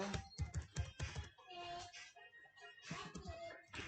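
Someone types a password on a computer keyboard: quiet, quick keystrokes tap in short bursts beneath a person speaking.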